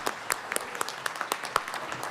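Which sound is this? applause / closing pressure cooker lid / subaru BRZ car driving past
applause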